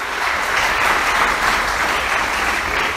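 A congregation applauds for Jesus during a sermon on fatherhood, a dense, steady wash of many hands clapping together at full strength for several seconds, loud and unbroken, with no voices rising above it.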